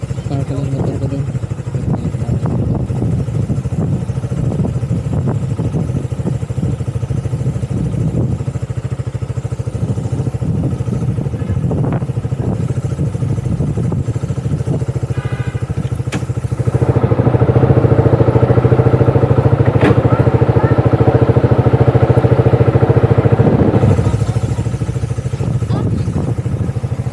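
A motorcycle engine idles and rumbles nearby, revving louder for several seconds before settling, with people talking briefly in the background.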